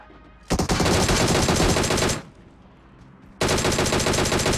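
Loud bursts of rapid automatic gunfire in a PUBG battle royale match, one long burst, a short lull, then another sustained burst, close and dominant with no talk.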